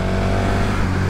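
A 2020 KTM Superduke R motorcycle accelerating hard in third gear, a loud, dense, close engine roar held steady throughout the brief moment.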